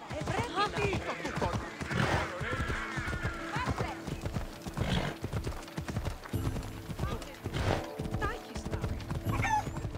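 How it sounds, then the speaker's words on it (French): A horse in the video game Assassin's Creed Odyssey gallops with rhythmic, close hoofbeats and lets out loud neighs and whinnies, while a voice talks over parts of it. "Allez, on va appeler le cheval."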